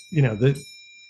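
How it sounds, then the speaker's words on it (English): A ship's bell rings with high, steady tones that linger under a voice speaking close by, and the ringing carries on after the talk stops. "this is my ship's bell"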